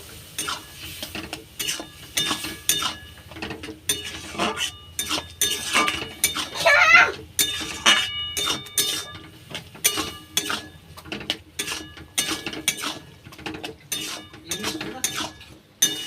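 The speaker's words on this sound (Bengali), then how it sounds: "আলু আর কলাই খুন্তিয়ে করে ভালো করে এইভাবে নেড়ে নেব।" Boiled potatoes and peas stirred with a spatula in an oiled pan for street-style chatpati, giving repeated scraping and clinking strokes of metal against the pan in an uneven rhythm throughout, close and moderately loud with no talking.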